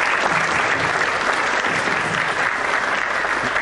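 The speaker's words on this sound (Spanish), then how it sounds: "para quien pido un caluroso aplauso" A human rights congress audience gives warm applause for Pedro Parra, a Paraguayan exile in Buenos Aires. The clapping is loud and continuous, many hands in a sustained, even roar from a large crowd in a hall.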